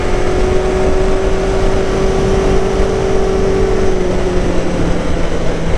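A motorcycle engine drones steadily on a countryside road during an overtake, with a sustained engine tone and heavy wind rush throughout, loud and close, no voices.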